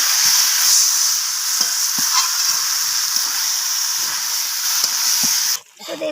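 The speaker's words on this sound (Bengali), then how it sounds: "চিকেনটাকে দেখুন এবার আমি এইভাবে নাড়াচাড়া করে পেঁয়াজ আর ক্যাপসিকামের সাথে এইভাবে নাড়াচাড়া করে কষাতে থাকবো" Marinated chicken with onion and capsicum fries hard while being stirred. A loud, dense, continuous sizzle with occasional soft scrapes cuts off abruptly near the end.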